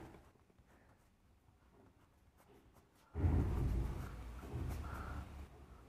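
A pen scratches across paper while someone works a trigonometry maths problem, faint and sparse at first, then turning into steady, louder close-up strokes for the last few seconds.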